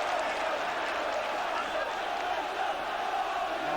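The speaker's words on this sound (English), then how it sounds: "Just listen to this crowd." Football crowd at a 1986 Newcastle United versus West Ham match roars steadily, a dense wash of cheering and shouting from the stands that holds level throughout without a break.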